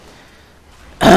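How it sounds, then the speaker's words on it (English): A sudden loud cough bursts in after a second of near silence, a single close harsh expulsion that runs to the end. "sarcastic cough right there"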